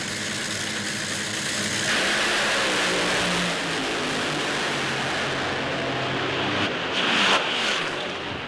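Big-cube V8 drag racing cars roar past a crowd at a drag strip, a loud, dense, continuous engine rumble with a swelling surge near the end.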